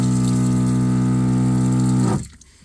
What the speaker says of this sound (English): I'd have to go ahead and turn on the water pump, and then when I do that, I am now able to